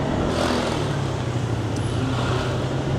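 Loud, constant road noise from passing cars and engines, heard close up while riding a motorcycle taxi through traffic in Manila, with wind rumble and no talking.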